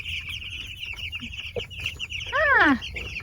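Chickens kept in hoop chicken tractors on pasture cluck and squawk at close range, with a louder rising call near the end over a soft outdoor background.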